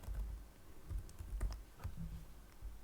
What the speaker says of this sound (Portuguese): Eu vou digitar aquele mesmo nome da minha máquina virtual.